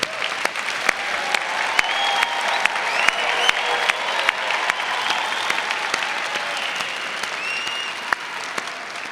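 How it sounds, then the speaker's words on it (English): Audience applause for new university graduates at a fall undergraduate commencement ceremony, a steady, full crowd of clapping with a few sharper claps popping out near the microphone, continuing throughout. "Let's give these outstanding graduates a round of applause."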